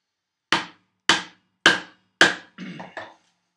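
A chisel struck with a mallet chopping a mortise in wood: four sharp, evenly spaced blows followed by two softer, shorter knocks, close and clear with silence between.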